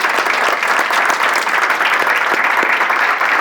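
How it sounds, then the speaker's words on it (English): Audience applause for panelists at a Chicago panel event on chronic school absenteeism, a dense, even roar of many hands clapping that holds steady at a fairly loud level throughout. "But a huge round of applause for our panelists."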